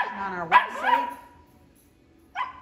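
German Shepherd puppies give high, sharp barks and yips close by, a quick burst of cries followed by a pause and another yelp.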